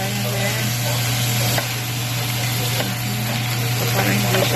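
Carrots, onions and garlic for pancit canton frying in a pan over a low flame, giving a steady, close sizzle with light stirring scrapes throughout, under a constant low hum and with no talk.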